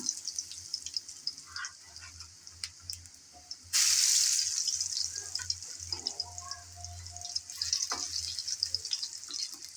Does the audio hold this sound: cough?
no